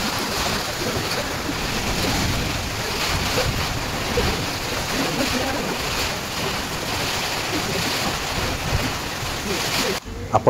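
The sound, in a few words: strong wind with rain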